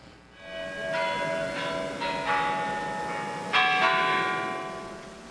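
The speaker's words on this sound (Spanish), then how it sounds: "las campanadas del carrillón del Kremlin daban exactamente las 10 de la mañana" The Kremlin carillon in Moscow chimes ten o'clock in the morning, a slow sequence of distinct strikes, each ringing out and overlapping, with a louder stroke near the end over faint background noise.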